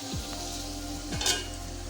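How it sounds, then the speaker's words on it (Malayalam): Onions and curry leaves sautéing in a pan give a steady close sizzle, with a couple of soft stirring scrapes and a brief louder crackle near the end. "ഇനി ഇത് അടച്ചു വെച്ച് നമുക്ക് വഴറ്റിയെടുക്കാമേ"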